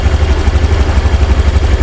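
A Honda Genio scooter engine runs at idle close by, a loud low pulsing putter with rapid steady beats and a slight rattle, continuous and without speech.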